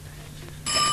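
A quiz show buzzer bell pressed by a contestant on a 1988 Icelandic TV quiz, a sudden bright ringing tone that cuts in sharply after a brief quiet stretch.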